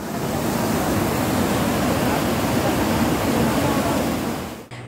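Rain-swollen river water in flood rushes over a bypass road in Chhindwara, a loud, steady roar of churning water that holds constant before cutting off abruptly.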